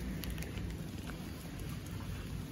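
Continuous rain patters steadily on surfaces at home, a dense, even hiss with faint scattered drips, moderately loud and without speech.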